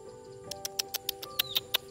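Bird chirps in a jungle: a rapid series of about nine short, sharp, high tweets over roughly a second and a half, fairly faint against a quiet steady background hum.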